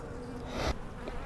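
Honeybees buzz around an open hive, a soft, steady hum close to the microphone, with one brief louder whoosh of wings partway through.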